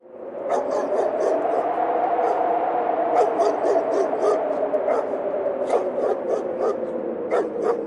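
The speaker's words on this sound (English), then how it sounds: "We hadn't even zipped the first body bag when the second dog barked." A dog barks and yips out in brushy ground near a graveyard, sharp repeated barks with whimpering tones over a steady background.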